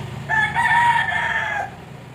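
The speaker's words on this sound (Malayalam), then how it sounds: "സേക്കുട്ടി കോഴിയമ്മ അത് വീണ്ടും അവിടെ പോയിട്ട് കുഴിയിൽ മണ്ണിൽ കളിക്കണേ ഉണ്ടോ?" A single rooster crow rings out, one drawn-out call lasting over a second, fairly close, over a low background hum.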